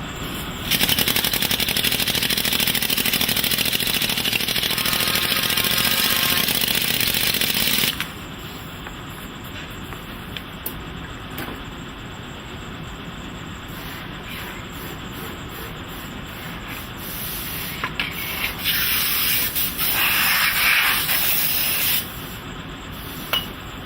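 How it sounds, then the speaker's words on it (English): An air rammer compacts green molding sand in a foundry flask, giving a loud, steady pneumatic rattle that runs for about eight seconds and then drops to quieter scraping and rubbing handling noises. "After hand peening the sand, he further compacts the sand with an air rammer."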